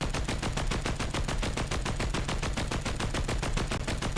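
Sustained automatic weapon fire in Fortnite, an unbroken rapid stream of loud, evenly spaced shots lasting several seconds with no pauses.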